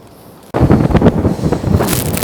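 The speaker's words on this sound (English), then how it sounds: "It is so windy out here." High winds of 60-70 mph rage outside a Zpacks Plex tent: a short muffled hush gives way abruptly to loud, close, roaring gusts battering the microphone.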